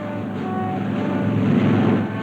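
Carrier-based planes of the 1945 USS Yorktown taking off from the flight deck: a steady, loud broadband engine roar with wind-like rush and low droning tones, holding level throughout and swelling slightly toward the end.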